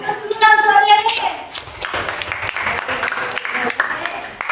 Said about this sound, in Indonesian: Kasih tepuk tangan buat Rere